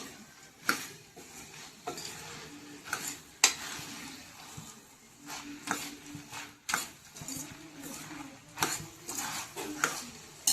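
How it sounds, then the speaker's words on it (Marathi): Whole masoor lentils fry in masala over a high flame, giving a steady soft sizzle broken by irregular scraping strokes of a spoon against the pan, close by and without speech. "एक 2 मिनिटं मोठा गॅस करून आपल्याला फ्राय करायचा आहे हा मसाल्यामध्ये।"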